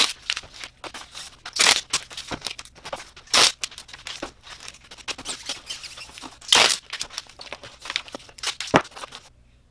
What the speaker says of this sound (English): I'm going to tape up the inside real quick.